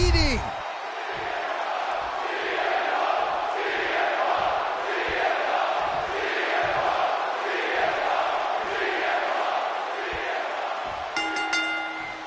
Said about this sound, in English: The crowd is on their feet for Jey Uso